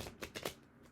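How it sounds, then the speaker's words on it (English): Tarot cards shuffled by hand in a collective reading, giving a few quick riffling bursts close by with soft rustling in between, and no talk. "Usually don't shuffle so chaotically."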